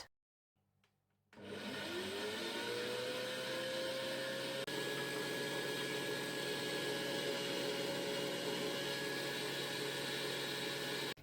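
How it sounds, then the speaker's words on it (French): A stand mixer motor whirs up to a steady, loud drone while kneading orange-blossom brioche dough, a sustained hum with a rising whine at start-up. "je vais laisser mon robot tourner pendant 5 bonnes minutes"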